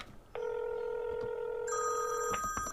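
Telephone bell sound effect rings steadily and loudly for about two seconds, then shifts to a higher, brighter ring before cutting off, with no talking.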